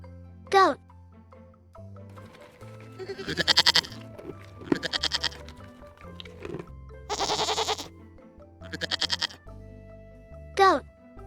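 A goat bleats in short wavering calls several times, alternating with a voice naming farm animals, with light music underneath.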